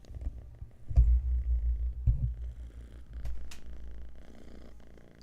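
A small cat purrs close by in a quiet room, a faint low rhythmic rumble with a few soft bumps and rustles around it.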